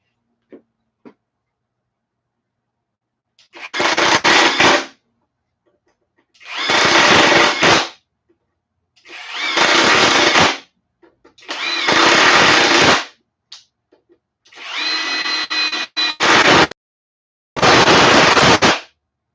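An older brushed Ryobi impact driver runs in seven separate loud bursts of rapid hammering, each one to two seconds long, separated by near silence.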